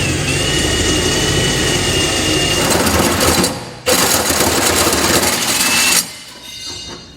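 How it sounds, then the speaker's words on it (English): A hole saw drills through the bed of a 2012 Ram 2500 pickup, a loud continuous grinding whir that cuts off briefly, resumes, then stops near the end, leaving quieter noise. "get our hole saw lined up,"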